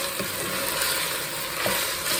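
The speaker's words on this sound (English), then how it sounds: "I'm just going to stir it out a little bit because we don't want garlic to burn." Garlic frying in a pan makes a dense, continuous sizzle, with stirring scrapes mixed in at close range.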